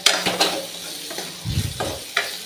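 Beans and capsicum sautéing with salt in a pan for idli sambar, with a few scraping stirs and short bursts of sizzle spaced through a quiet, intermittent stretch.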